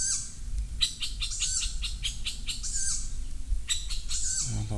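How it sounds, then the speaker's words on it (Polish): A young tawny owl in an old forest calls to its parent with a series of short, raspy, high-pitched cries in quick bursts, sounding fairly near over a low background hum. "to jest młody puszczyk, który woła rodzica"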